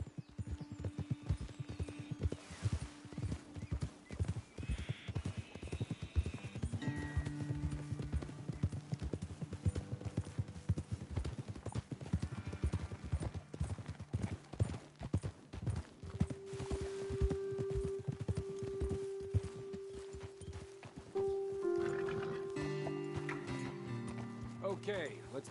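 Steady rhythmic clip-clop of horse hooves walking in Red Dead Redemption 2, continuing throughout while people talk over it, with a brief tonal sound near the end.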